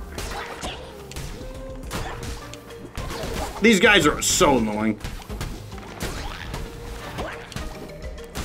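Hammer attacks smashing enemies in Cult of the Lamb, a run of sharp game whacks and crashes with a louder burst of impacts in the middle, heard under a player's talk.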